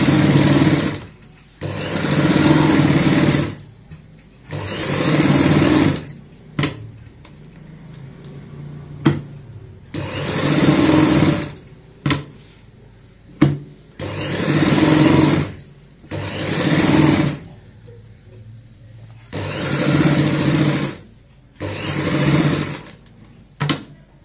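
Sewing machine stitching a baby frock's fabric and lining with a quarter-inch seam margin, running in about eight steady bursts of several seconds each, separated by short pauses, loud and close with no talk.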